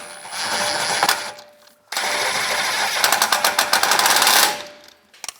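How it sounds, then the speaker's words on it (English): A power tool, likely an impact driver or ratchet, runs in two sustained loud bursts while tightening the lower bolt on a 2004-2010 BMW X3 shock absorber, the second burst hammering rapidly before stopping. "And tighten the bolt down below."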